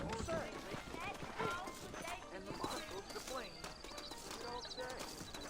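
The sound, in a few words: horses galloping with hoof clip-clop, Red Dead Redemption video game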